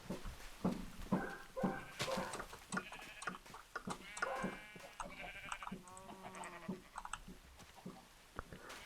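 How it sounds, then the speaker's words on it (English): Sheep bleat in a Minecraft world, short wavering calls repeating several times over a busy backdrop of game sounds and clicks, moderately loud throughout. "it gave me 2 sheeps"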